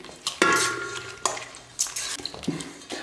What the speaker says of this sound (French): Je vais mélanger avec la fourchette